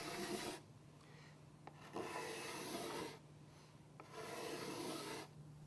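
A cabinet scraper rasps across a wooden surface in steady back-and-forth passes, each stroke a breathy scraping swell, quiet and close with no talking.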